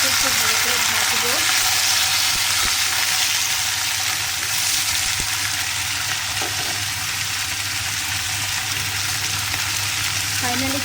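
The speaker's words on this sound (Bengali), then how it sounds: "আলুটাও দিয়ে দিলাম। এটাকে একটু ভালো করে ভাজবো।" Potato pieces fry in hot oil in a pan for a fish curry, a steady, close sizzle with a dense crackling hiss throughout, with occasional faint clinks of stirring.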